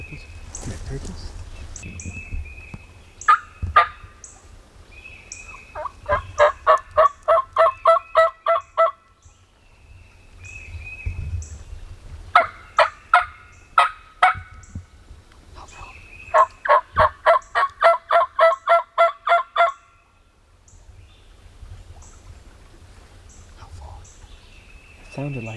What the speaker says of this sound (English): That's turkeys. Turkeys.